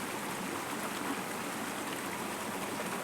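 A water current flowing in a stream, a steady broadband rushing and hissing that stays constant and fairly loud, with no voices over it.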